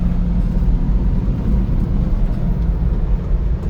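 Inside a Subaru Sambar mini truck in fourth gear at 80 km/h, a continuous deep engine hum and road rumble carry on evenly and close up, with no voices.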